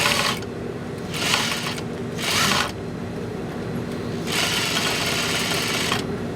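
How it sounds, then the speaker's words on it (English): A sewing machine sews a skirt facing seam in fabric at regular stitch length, running in several close bursts of whirring with short pauses between them. "I'm going to sew this at 1/2 inch with my regular stitch length"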